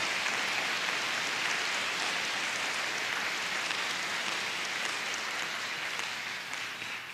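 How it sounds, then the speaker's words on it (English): A jazz concert audience gives a big, dense round of applause for a drummer after a live trombone-led performance, steady loud clapping sustained throughout before tapering slightly at the end. "she needs a big round of applause because she's played her tail off through this whole concert"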